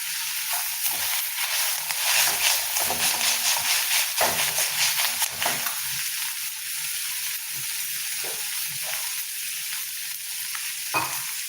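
Steady frying sizzle with a hissing crackle throughout as greens and egg fry in a pan, occasional stirring scrapes; no voices.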